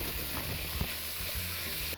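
Beef sizzling in sesame oil in a pan with sliced onion added, a steady close frying hiss with light stirring clatter throughout.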